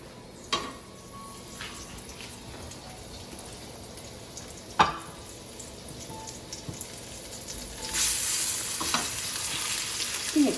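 Cauliflower steaks fry in hot sunflower oil with a continuous crackling sizzle, broken by a few sharp clatters and stirring sounds; it grows louder and brighter toward the end.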